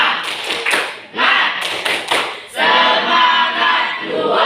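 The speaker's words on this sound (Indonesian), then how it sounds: "Coba tepuk semangat." A group performs a rhythmic spirit clap in a session, loud close bursts of clapping in a quick patterned sequence, pausing briefly, then breaking into a longer sustained round of applause.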